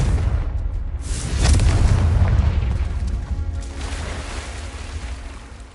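A Confringo fire spell in the wizarding game Hogwarts Legacy lands as a deep booming explosion that swells to a peak and then rumbles away slowly into a long fading tail.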